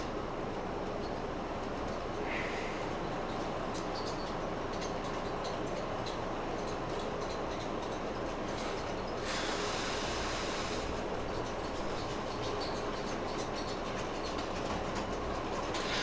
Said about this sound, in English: that locomotive is struggling